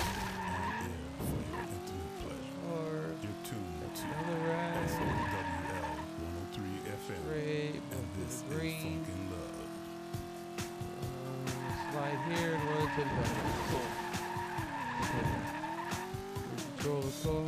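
Car tires skid and squeal in a racing video game, with a revving engine whining up and down continuously throughout, loud and close, while a voice talks over it.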